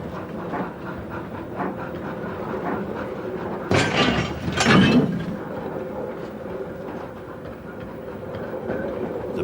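A Fell engine hauls freight on the Rimutaka Incline, giving a steady rumbling rail roll with faint clicking and a louder burst of clanking and hissing midway.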